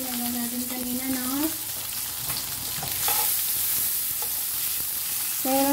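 Fish frying in a pan with ginger added, a steady broadband sizzle with scraping stir sounds throughout, and a voice briefly talking over the cooking near the start and end.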